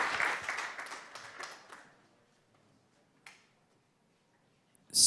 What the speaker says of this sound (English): let's give Jussi one more round of applause for the awesome presentation